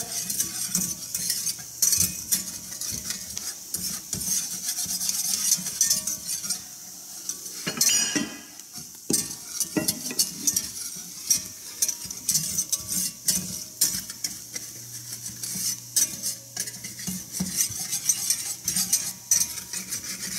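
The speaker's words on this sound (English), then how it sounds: "just whisk that together" A whisk stirring flour into a tablespoon of oil in a pan over medium heat, with steady scraping and clinking strokes against the metal, close and continuous, with a faint sizzle beneath.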